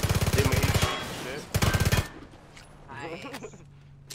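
Rapid bursts of automatic gunfire in PUBG, two loud close strings of shots separated by a pause, then quieter in-game sounds.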